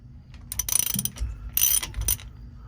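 A ratchet wrench torques down the differential plug on a 2019 Sprinter van, giving two quick bursts of close, rapid metallic clicking separated by a short pause.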